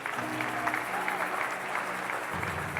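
A church congregation applauding, a dense, steady patter of many hands clapping together for a few seconds at close range.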